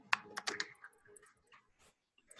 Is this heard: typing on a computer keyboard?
yes